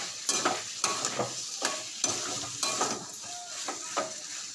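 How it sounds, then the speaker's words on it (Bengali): Paneer pieces fry and are stirred in a spiced masala. Steady sizzling comes close by, and a spatula scrapes the pan in repeated rhythmic strokes about every second. "মশলাটা কষানো হয়ে গেল এবার আমি পনিরগুলো দিয়ে দেবো"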